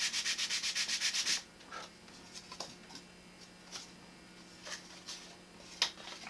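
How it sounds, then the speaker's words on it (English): Sandpaper on a sanding block rubs back and forth in a quick, even burst of about a dozen raspy strokes, then gives way to sparse soft scrapes and taps, close and quiet. "I like to constantly be moving the sandpaper on the block, so I'm not wearing out the corners"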